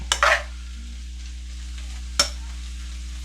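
Shrimp sizzling gently in a pan over low heat, a soft steady fry with a couple of brief clattering stirs near the start and another partway through.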